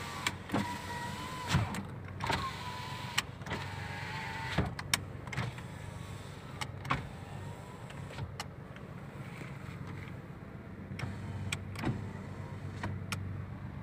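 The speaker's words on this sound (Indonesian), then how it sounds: "kita cek untuk power windows" Power windows on a 2012 Nissan March running up and down, with repeated whirring motor strokes, each ending in a sharp click or thunk, close and fairly loud over a low idling hum, with no talk.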